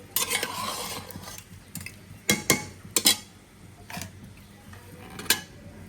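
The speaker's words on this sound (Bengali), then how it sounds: "এখন আমি এর মধ্যে মাংসের মশলাগুলো দিয়ে দেবো" A spoon stirs homemade meat spice mix into cooked meat in a pot, giving intermittent scrapes and sharp metallic clinks with quiet gaps between, close and fairly soft.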